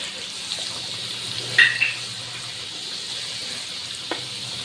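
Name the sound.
garlic frying in hot oil with mustard seeds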